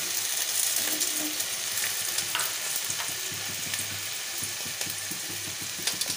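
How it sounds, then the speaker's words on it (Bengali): Onion and tomato frying in a pan with ginger, garlic and green chili paste, a continuous close sizzle broken by scattered soft stirring scrapes and clicks, no voices. "পেঁয়াজ টমেটোটাকেও বেশ লাল করে ভেজে নেব"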